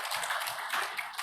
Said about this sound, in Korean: 찬양을 받으신 하나님께 영광의 박수를 올려드리겠습니다